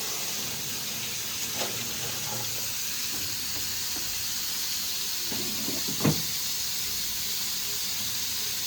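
Large prawns fry in oil with a soft, steady sizzle and hiss, fairly faint, with a few light clinks and one short louder knock near the end, and no talk.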